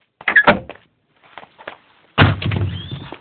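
A house door is worked in two parts: a few quick knocks or latch clicks and a faint rattle, then a loud thud and a sustained scraping swing as the door opens.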